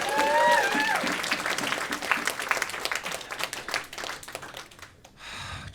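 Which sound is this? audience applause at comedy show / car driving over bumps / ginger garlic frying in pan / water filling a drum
audience applause at comedy show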